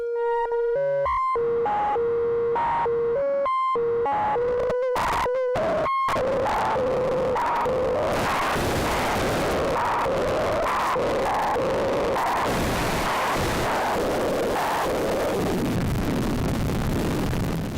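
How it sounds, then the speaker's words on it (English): Synthesizer tones from two discrete analog oscillators cross-modulated with linear FM step through bright sustained pitches, then grow harsh and noisy as the modulation deepens, ending in a dense, gritty, almost static-like wash. "this gets even more interesting once we start cross-modulating 2 oscillators against each other"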